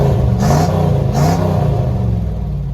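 A 1971 Ford van's engine with a Cherry Bomb exhaust revs close and loud, two quick throttle blips over a rough, burbling idle that keeps rumbling afterward.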